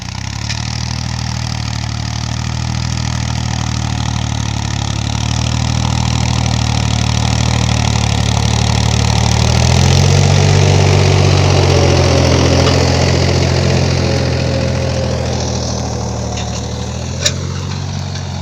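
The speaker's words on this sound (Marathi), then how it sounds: "चांगला ट्रॅक्टर चालूच आहे" A loud tractor engine runs steadily at idle, a deep continuous rumble that swells slightly midway, with a small click near the end.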